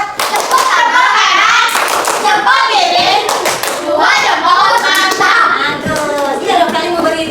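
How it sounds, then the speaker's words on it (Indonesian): Students in a classroom perform a rhythmic group clapping routine, sharp patterned claps in quick bursts mixed with their voices chanting along together. "Oke, kita tepuk mantap."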